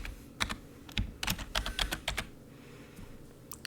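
A project name is typed on a computer keyboard, with a quick run of close, crisp key clicks in an uneven rhythm and a brief pause before a final tap, with no talking.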